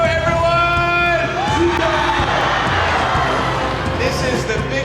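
A packed Vietnamese stadium crowd of about 35,000 roars and cheers in a loud, continuous wash, while an amplified voice rings out over the noise.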